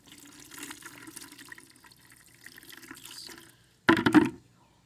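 Hot water runs and splashes over a dirty lawn mower air filter base, with a steady trickling wash that ends in a brief louder gush of spray.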